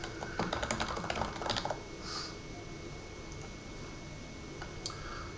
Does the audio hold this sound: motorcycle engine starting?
no